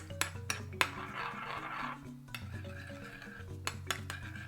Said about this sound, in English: stir around like this